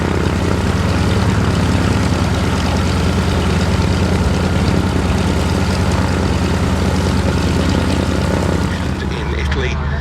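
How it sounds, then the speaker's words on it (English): A Yak-3 WWII fighter takes off from a hard runway at an airshow, its piston engine roaring loud and steady throughout, with a broad, constant drone and no clear talking over it. "Getting airborne off the hard runway now, the Yak 3"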